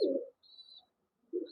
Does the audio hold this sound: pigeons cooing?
yes